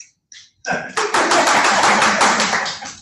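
Improv comedy show audience breaking into a round of applause: after a quiet gap and a few scattered claps, many hands clap together in a close, lively burst that holds for a couple of seconds.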